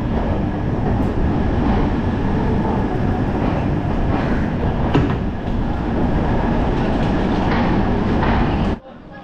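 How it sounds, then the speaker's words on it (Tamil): The Jaipur Superfast Express from Coimbatore rolling into a platform at Chennai Central: a loud, steady rumble with rhythmic wheel clatter and faint squeals, cutting off sharply near the end. "எம்ஜிஆர் சென்னை சென்ட்ரல் ரயில்வே ஸ்டேஷனில் பிளாட்ஃபார்ம் நம்பர் 6 வந்து ரீச் ஆகிருக்குங்க."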